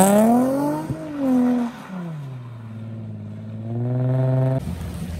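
Nissan G35 on a drift day, its engine revving hard with pitch swooping up and down through gear changes and throttle lifts, loud and fairly close, fading after a final sustained rev.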